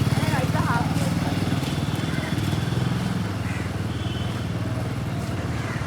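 A motorcycle engine idles and pulls away on half clutch with a steady, throbbing low rumble, heard close under a person's voice giving instructions.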